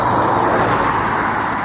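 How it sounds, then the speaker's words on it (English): Cars passing on a residential street near a house with a rooftop solar installation, a loud steady road rush filling the short stretch without pause. "I have a couple cars coming by"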